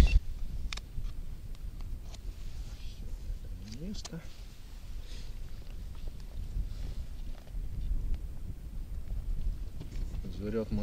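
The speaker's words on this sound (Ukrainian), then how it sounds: "Вітер трішки нам, звісно, мішає." Steady wind buffets the microphone with a low rumbling roar while ice fishing, continuous throughout, with faint scattered knocks and movement sounds.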